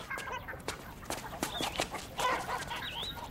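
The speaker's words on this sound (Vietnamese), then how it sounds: "Huynh bắt mấy con gà biết bay đi." Chickens cluck and squawk close by in a busy flurry of short calls, with fluttering and scuffling between them and a few higher chirps overlapping.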